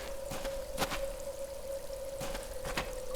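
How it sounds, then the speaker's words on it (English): Running water at a natural well in the adventure game Willy Morgan and the Curse of Bone Town gives a steady, soft trickle, with a few faint splashy bursts layered over it. "It's a natural well formed by the running water."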